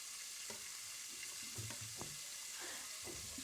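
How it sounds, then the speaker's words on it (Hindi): Masala for a brain curry frying in a pan, a faint steady sizzle with a few soft stirring knocks and scrapes close by, no talk. "तो इसको मैं थोड़ी देर के लिए भून लेती हूँ"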